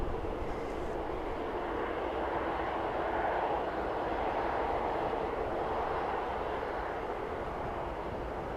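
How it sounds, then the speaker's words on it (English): An Iberia Express airliner lands at Manchester Airport behind a Jet2 jet, a distant, steady broadband engine roar holding at low level throughout without voices. "And Iberia Express just landed in behind Jet2."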